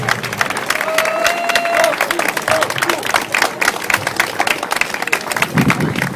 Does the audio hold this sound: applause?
yes